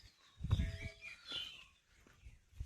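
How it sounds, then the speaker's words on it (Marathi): In the village countryside, a few birds chirp and call faintly from a distance, in short scattered bursts over a quiet rural background with low rustling. "मस्त वगैरे पक्ष्यांचा आवाज येतोय।"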